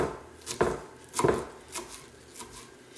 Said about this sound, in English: I cut it down the center just like this, and then just kind of finely shred it.